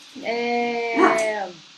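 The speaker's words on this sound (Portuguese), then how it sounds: "meu cachorro está latindo." A dog barks and whimpers in a single drawn-out, tonal yelp-like vocalization lasting over a second, moderately loud and close, rising in intensity near the end, with no talking over it.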